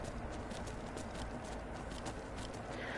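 A horse gallops across the terrain in the game Skyrim, its rapid hoofbeats forming a steady, even rhythm against a dense, continuous background wash.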